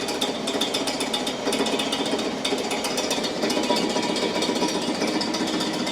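An engine crankshaft being spun up on a machine, a loud, steady, rapid mechanical chattering and whirring that holds at a constant pace throughout, close by and without talk.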